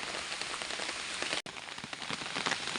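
Rain falls steadily on a road, a dense, even hiss that fills the whole stretch with only a brief dropout near the middle and no talking.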